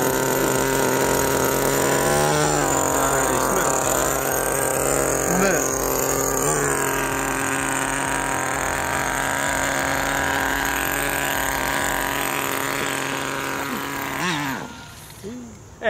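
A small gas engine of a remote-control car drones steadily at close range, its pitch wavering as the throttle shifts, then cutting out near the end.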